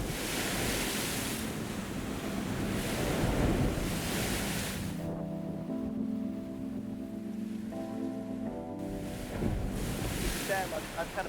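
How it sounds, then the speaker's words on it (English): Surf surging against a rocky coastline, broad roaring wash rising and falling in waves, with wind buffeting the microphone and a brief lull midway where faint tonal sounds show through. "Epic foreground, lots of white water, waves crashing, some really cool rocks and structure"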